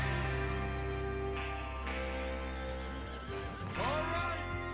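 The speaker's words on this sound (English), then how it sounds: "Get your horses ready." In Red Dead Redemption 2, horses whinny and snort over clip-clopping hooves, a loud neigh rising near the end, under a low, continuous background rumble.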